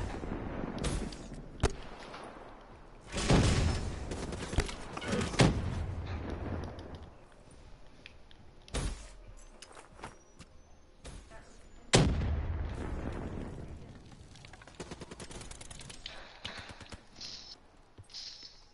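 Gunfire in the video game Black Ops 3: several sharp, loud shots and blasts spaced irregularly, with quieter stretches and scattered clicks and rumble between them.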